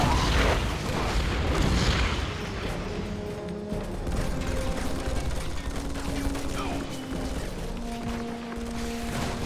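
Bombs from a bomber run in Red Alert 3 hit a power plant and an ore refinery, giving a heavy rumbling blast at the start that fades into ongoing battle noise and clatter.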